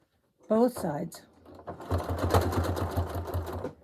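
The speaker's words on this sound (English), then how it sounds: "Now I just have to do some practice stitching." A sewing machine fitted with an open-toed foot stitches practice rows on a quilt, running in a fast, even mechanical patter close by after a brief spoken phrase.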